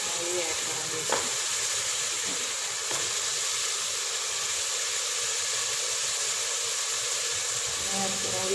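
Soaked cut potatoes go into vegetables frying in a pan, giving a steady hiss and sizzle with light stirring and a few soft knocks, close and continuous.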